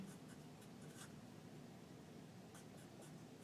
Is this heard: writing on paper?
yes